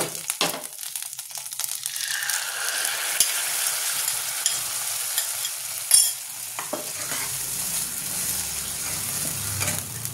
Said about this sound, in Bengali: এবার আমি সেদ্ধ করা ডালটা দিয়ে দেবো